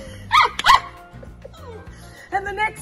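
A pet dog in an Australian backyard barks and yips a few times close by, with a short burst of barks at the start and another near the end.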